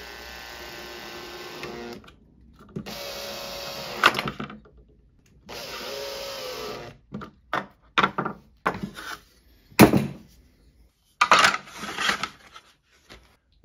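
A screw gun whirs in several short bursts while fastening blade arms on a 52-inch ceiling fan with a light kit, the runs broken by clicks and handling knocks.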